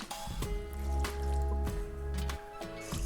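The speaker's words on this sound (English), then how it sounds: "you just wanna add in the milk" Milk poured into room-temperature butter in a mixing bowl for cinnamon bun dough gives soft wet splashes and drips with low sloshing, close and fairly quiet, without talk.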